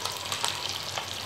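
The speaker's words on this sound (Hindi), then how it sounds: "फिश फ्राई कुक हो रहा है" Fish pieces frying in hot oil for a homemade Andhra fish fry give a steady, soft crackling sizzle, heard alone and fairly faint.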